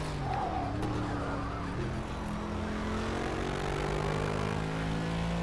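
A Bentley in a racing video game loses traction, tires squealing and skidding over a constant, steady engine drone with rising and falling whine, heard without talking.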